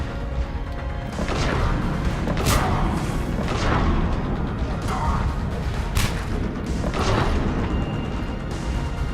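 Gunfire and explosions in the video game Mass Effect 3 keep up a dense, continuous barrage of booming blasts and sharp cracks, with a voice faintly present underneath.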